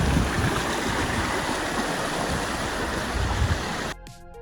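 River water rushes past in a steady, loud broadband roar, close and continuous, before cutting abruptly to near-silence with a faint tonal trace at the very end.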